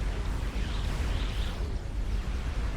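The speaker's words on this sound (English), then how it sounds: "I hear an explosion" Explosion in the real-time strategy game Supreme Commander during a large 6v6 battle: a dense, sustained rumbling boom with crackling debris, loud and continuous without pause.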